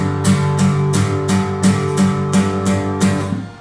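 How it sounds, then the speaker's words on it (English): Open power chords strummed on an acoustic guitar, eight ringing strokes in a steady pulse that sustain into each other, close and fairly loud with no voices. "an open power chord would sound like this"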